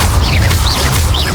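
An Incendio fire spell cast in Hogwarts Legacy, a brief loud whooshing burst of flame with a rumbling low body.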